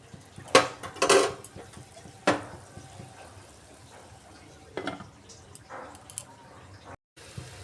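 Metal lid clatters onto a pot of tomato rasam on the stove, with a few sharp clanks and scrapes spread apart, then quieter handling noises and a brief silence near the end.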